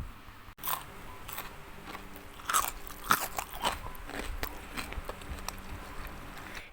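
Crunchy fried tofu snacks, fantasy tofu and cabbage tofu siomay, being bitten and chewed close up, with a sharp first bite followed by several crisp, crackling crunches of moderate loudness and no talk.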